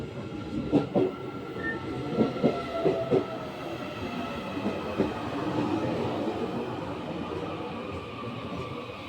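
A train in Taiwan rolls in with rhythmic wheel clatter on the rails, then a steady low rumble as it slows and settles at the platform.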